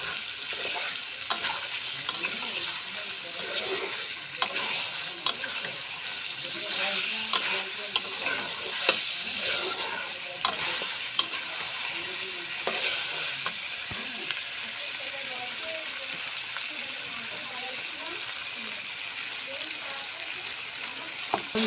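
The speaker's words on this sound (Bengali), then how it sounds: "আমাদের মাংস সুন্দর করে আলু পেঁয়াজ রসুনের সাথে কষানো হয়ে গেছে" Chicken is stir-fried with potato, onion and garlic in a pan, a continuous sizzle broken by frequent sharp spatula scrapes and clicks against the metal, steady and close, with no talk.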